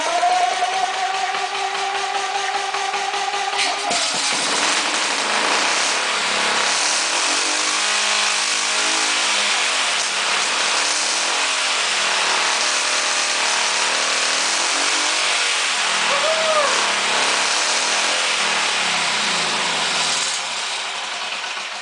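A BMW Isetta's small engine fires up for the first time, then runs loud and steady, rising and falling in a series of revs that continue without a break to the end.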